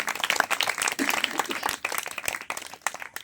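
Applause and clapping from a church congregation, dense and steady for a few seconds with a faint voice underneath.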